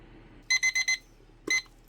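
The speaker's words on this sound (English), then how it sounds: "my timer went off" A timer alarm goes off during resin crafting, giving a quick burst of four loud, bright electronic beeps, then a pause and one more beep, with nothing else heard.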